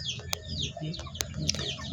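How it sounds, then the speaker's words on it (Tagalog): Chickens cluck and chatter close by in their coop, with a few sharp clicks or taps mixed in among the birdy calls. "Ayan ang mga manok natin"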